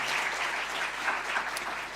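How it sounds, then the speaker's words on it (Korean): A church congregation at Sunday worship applauds to welcome a missionary couple, a full, steady round of clapping from many people that holds evenly for a couple of seconds. "박수로 환영할까요?"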